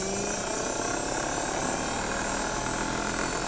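A car alternator rewired as a DIY brushless DC motor spins on a bench, giving a steady, loud whirring whine with broad airy noise and no pauses.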